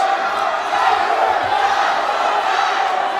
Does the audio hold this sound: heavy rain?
no